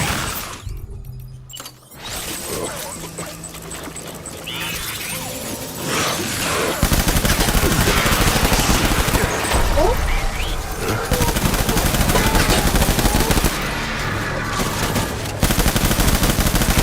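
Gunfire in Death Stranding on Very Hard difficulty, with bursts of rapid automatic shots and sharp cracks that grow dense and loud in the second half, mixed with crashes and breaking sounds.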